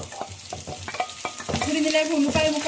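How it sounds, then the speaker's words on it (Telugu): Chopped onions fry with bitter gourd in a pan, a steady sizzle building under repeated scraping and stirring strokes from a utensil, close and fairly loud. "ఈ ఉల్లిపాయలన్నీ కూడా ఎక్కువ ఫ్రై కాకుండా కొంచెం కలర్ చేంజ్ అయ్యేంత వరకు పెట్టుకుంటే చాలు"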